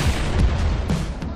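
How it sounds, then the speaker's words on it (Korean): A single heavy blast from a wine bottle filled with nitromethane solution set off on three one-inch-thick steel armor plates, a loud, dense, low rumbling boom that fills the short stretch without pause. "니트로메탄 용액을 아무런 추가 장치 없는 와인병에 담아서 이렇게 1인치 두께 아머 플레이트 3장 위에 놓고 폭발시키면"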